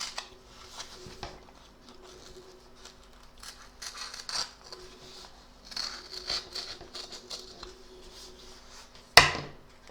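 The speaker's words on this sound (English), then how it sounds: "I'm just going to cut round the edge" Embroidered fabric from a Christmas card trimmed around its edge with scissors, quiet close snips and rustling fabric in an irregular run, ending in one sharp louder clack.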